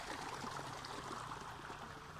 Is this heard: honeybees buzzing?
no